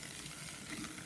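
Onions and flour fry quickly in a hot pan for beef stew, giving a steady, close, even sizzle with no talk.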